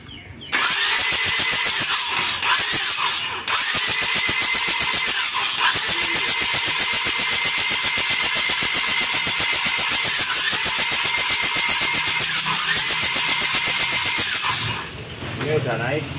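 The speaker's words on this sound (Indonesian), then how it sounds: "kita cek sound untuk mesin 4M40-nya" A Mitsubishi Pajero's 4M40 diesel engine turns over and settles into a steady, loud, close idle with a dense rhythmic clatter running nearly unbroken to the end, with a brief dip near the close.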